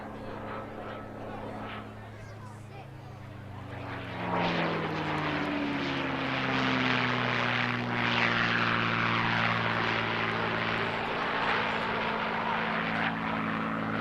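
A P-51 Mustang propeller warbird roars past at an air show, its engine drone swelling and shifting in pitch as it passes, steady and loud throughout.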